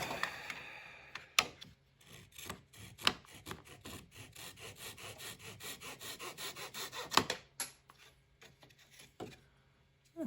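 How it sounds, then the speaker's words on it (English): A wooden lantern part is face-sanded by hand to remove smudges, giving a steady rhythmic scratchy rubbing with periodic louder knocks and strokes, close and quiet, without talk. "Give that a little face sand, take off any smudges."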